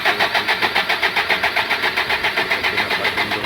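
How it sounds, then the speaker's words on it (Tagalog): A Foton Tornado Euro4 truck's diesel engine cranks after a fuel filter change, a loud, rapid rhythmic chugging that pulses evenly throughout without catching to a smooth idle. "So ayan, pinapaandar na natin. On and off."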